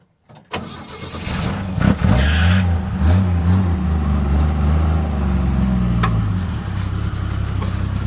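A Chevrolet C10 truck with a restricted gas line cranks and catches close by, then revs unevenly, the engine surging and dropping as it struggles to settle.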